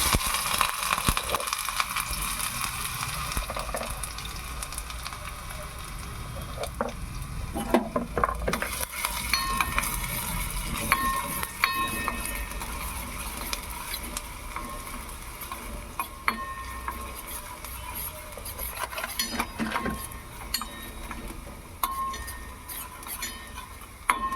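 Chopped onions frying in oil in a pan while making noodles, stirred with a spoon: a steady close sizzle with scattered scraping and clinks of metal against the pan.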